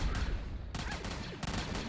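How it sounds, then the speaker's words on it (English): A beam launcher gun in Roblox Zombie Attack fires in bursts of rapid shots, two sharp onsets breaking into a steady, loud stream of game gunfire with no talking. "pew, pew, pew, pew. Definitely not the type of the gun to face the boss."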